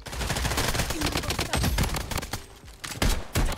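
Rapid bursts of automatic gunfire from an AK-47 assault rifle in the shooter game Blood Strike, loud and continuous with sharp cracks and brief gaps, ending in a few heavier single reports.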